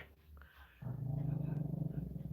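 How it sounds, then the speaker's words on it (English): A Puggawawa dog growls low and steadily right next to the mic, a rumbling, pulsing growl that fills the second half after a quieter start. "Puggawawa next to me growling"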